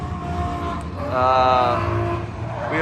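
A race car runs a solo lap at Irwindale Speedway, its engine a steady buzzing drone that swells to a louder, higher whine mid-pass and then eases off, with voices and crowd noise in the background.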